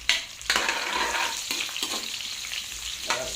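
Onions sizzle and fry in a hot pan for adobong sitaw (Filipino string bean adobo), with a steady crackle and several louder stirring scrapes, close and alone without talk.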